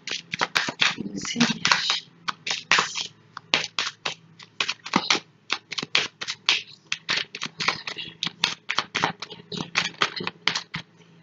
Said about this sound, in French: J'ai ressorti l'oracle de l'horoscope de Béline. On va les prendre 3 messages